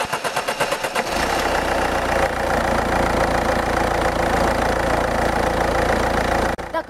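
A car engine cranks with quick rhythmic pulses for about a second, catches and settles into a steady, close, loud idle hum, with a brief dip near the end.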